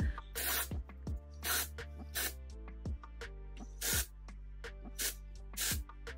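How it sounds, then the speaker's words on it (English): Several short, loud bursts of dry shampoo aerosol spray hiss into hair roots, close up, separated by brief pauses and faint background tones. "I'm just gonna spray that into the roots"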